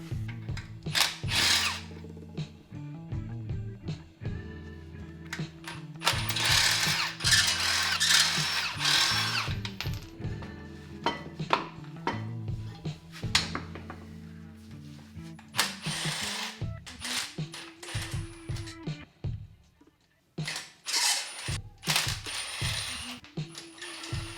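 Wheels being taken off a BMW 335i in a home garage, with repeated bursts of a power tool or impact gun, metallic clanks, rattles and ratcheting, loud and close, with no talking.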